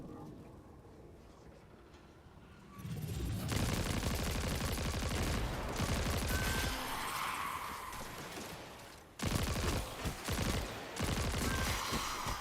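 Rapid bursts of kinetic weapon fire from a Destiny 2 gun with rough recoil, loud and sustained with a brief pause before another volley, heavy and close with no talking.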